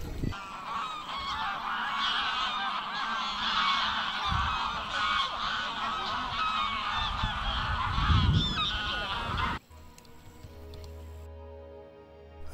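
Geese honk again and again at a lakeside in Sigtuna, Sweden. The nasal calls come in a busy, fairly close cluster over outdoor background noise, then stop abruptly and leave quieter ambience.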